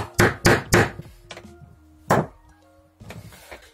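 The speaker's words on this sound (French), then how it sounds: "un marteau ou une petite massette, et on va venir le mettre en biais comme ça pour pouvoir frapper le roulement qui est de l'autre côté" A hammer strikes a drift set at an angle to knock out a motorcycle bearing: three quick loud metallic knocks, a pause, a single blow, then a lighter series of taps, all close and without talk.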